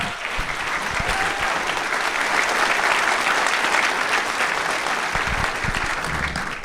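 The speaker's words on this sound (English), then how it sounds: "let's give Rick Zbur a big hand and applause" An audience at a film and TV industry town hall bursts into steady, dense applause that fills the room and holds loud and even throughout, with faint crowd noise mixed in.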